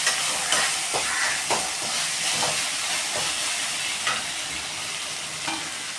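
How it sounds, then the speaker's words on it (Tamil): Tomatoes and ginger garlic paste sizzle loudly in a hot pan for a mutton head curry, with steady hissing and repeated scraping strokes of a spatula as they are stirred. "அடுத்து தக்காளியும் போட்டு நல்லா வதக்கி விட்டுக்கோங்க."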